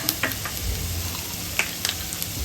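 Ghee and oil sizzle steadily in a pan as something roasts, a close, continuous frying crackle with a few sharper pops and stirring scrapes, no voices.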